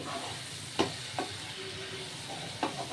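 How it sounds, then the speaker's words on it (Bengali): Tangra fish sauté in a pan for a Bengali fish curry with potato and eggplant, giving a soft steady sizzle broken by a few short stirring scrapes. "দেখুন কষিয়ে নিলাম"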